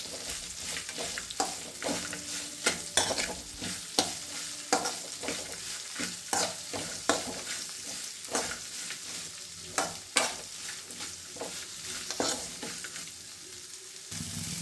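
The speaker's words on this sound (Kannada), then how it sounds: "ಈ ರೀತಿ ಹೆಚ್ಚಿದ ಈರುಳ್ಳಿನ ಸೇರಿಸಿ ಮತ್ತೆ ಕೈ ಆಡಬೇಕು" Chopped onions stirred into sweetcorn uppittu in a pan, a spoon scraping and clacking in irregular strokes over a steady frying sizzle, close and fairly loud, with no talking.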